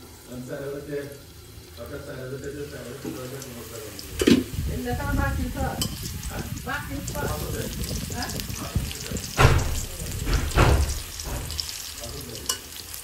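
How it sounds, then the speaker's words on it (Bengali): Pumpkin slices fry in oil in a covered pan, a steady soft sizzle with occasional clatters and stirring knocks from utensils, heard under intermittent talk. "তেলের উপর দিয়ে একটা ঢাকনা দিয়ে ঢেকে দুই সাইড খুব ভালোভাবে ভেজে নিতে হবে।"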